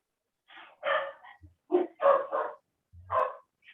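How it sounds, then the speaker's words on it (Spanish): Several dogs barking at a home, a run of sharp close yips and woofs in short bursts with brief pauses between them. "Se están ladrando mis perros."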